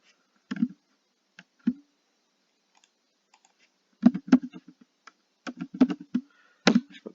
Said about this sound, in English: I'll just go and we'll just type it